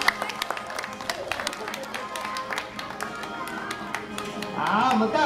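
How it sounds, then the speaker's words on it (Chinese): Parents at a kindergarten graduation ceremony clap for the children, scattered applause mixing with crowd murmur and background music, swelling louder near the end. "各位爸爸妈妈再一次给我们所有的小朋友掌声鼓励"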